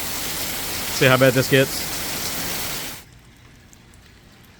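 Heavy rain pours during Hurricane Beryl in Katy, Texas, a dense steady hiss close by that cuts off abruptly after a few seconds, with someone speaking briefly over it.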